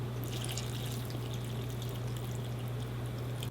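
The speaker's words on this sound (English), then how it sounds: "Pour it in." Hot pho broth pours steadily into a bowl of noodles, beef, onions and scallions, a close, continuous liquid splash lasting a few seconds before stopping.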